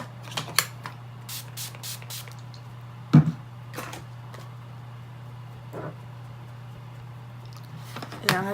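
Makeup setting spray is spritzed onto a face in a burst of several quick, hissy pumps near the start, followed by a few scattered light taps and clicks in an otherwise quiet room.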